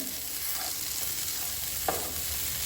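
Soya chunks frying gently on a low flame, a quiet, steady sizzle broken by a few light stirring scrapes and one sharper knock against the pan.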